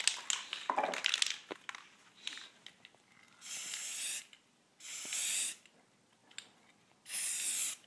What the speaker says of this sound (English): now what we're gonna do is we're gonna take our brown spray paint